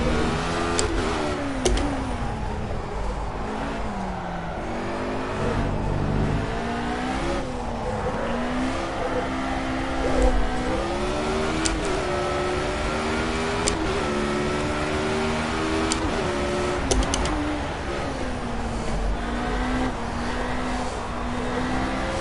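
A Formula A open-wheel race car engine in the racing game Project CARS, revving hard and continuously with rising and falling pitch through repeated gear shifts, loud and steady with no talking.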